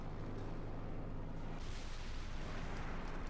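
An artillery shell explodes in Company of Heroes 2, landing on a flak emplacement during an OKW versus Soviet match: a dense, sustained rumbling blast with broadband roar that swells at the midpoint and stays loud throughout, without voices.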